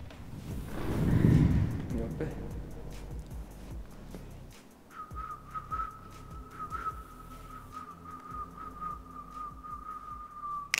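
A person whistles a long, steady, unbroken note lasting several seconds, following a stretch of voices and busy room noise at the start of a comedy-series scene.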